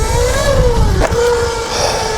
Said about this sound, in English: Oh my God, sounding a little grindy. Chain might be getting a tad loose on me.